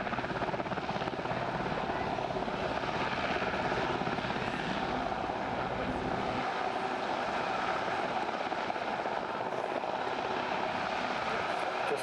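A Westland Sea King HAR3 helicopter at the Midlands Air Festival 2025, its rotor and engine a steady, loud, continuous roar throughout, with no talk over it.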